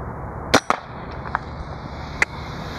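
Tiberius Arms paintball marker with an FSR riser fired outdoors: two quick sharp pops close together, then a fainter one and another distinct pop a moment later, over steady background hiss.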